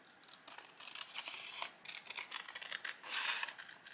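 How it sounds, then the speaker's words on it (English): Scissors snip through a paper sewing pattern that is being altered for a crop top, giving repeated close, crisp cuts and paper rustle in a steady working rhythm, heard alone without speech. "So I'm just gonna cut that out."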